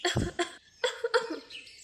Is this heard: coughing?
yes